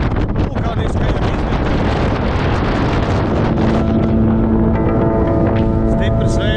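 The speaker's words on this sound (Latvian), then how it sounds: "Stiprs vējš pūš." Strong wind roars across volcanic ground on Lanzarote, a loud, dense buffeting rush hitting the microphone throughout, with a faint tonal hum emerging toward the end.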